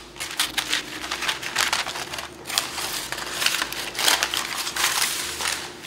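Scissors cutting a parchment or paper base for the bottom of a cake pan, a run of close, crisp snipping and crinkling strokes in short bursts with brief pauses, no talk.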